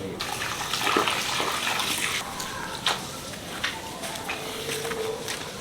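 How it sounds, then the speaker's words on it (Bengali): Water from a rooftop tap runs steadily while freshly cut fish is washed under it, a continuous close gushing splash broken by a few clinks and sloshes of handling. "এবার ভালো করে ধুয়ে নিচ্ছি ছাদে কল আছে এখানে ধুয়ে নেবো"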